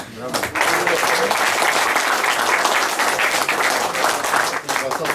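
Audience applause at a Polish retirees' gathering, a dense sustained burst of clapping from a crowd that swells quickly and holds steady for several seconds, with a little talk underneath.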